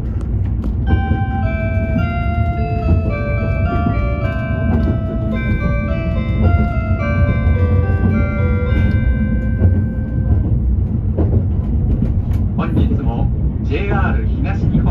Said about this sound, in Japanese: 仙台行き発車いたします。